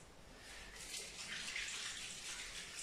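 Water runs from a tap as hands are washed at a kitchen sink during foie gras preparation, a steady soft hiss that swells slightly over a few seconds, fairly quiet and without talk.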